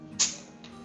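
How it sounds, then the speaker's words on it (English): A magnesium drink top is pulled off, releasing a short, sharp burst of carbonation hiss that fades quickly within a second. "You hear that carbonation, but watch this."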